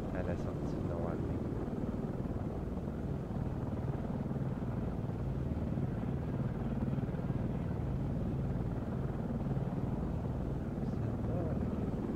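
A helicopter engine in the ArmA 3 military simulation game drones steadily with a dense, continuous low rumble and rotor thrum, unchanging throughout.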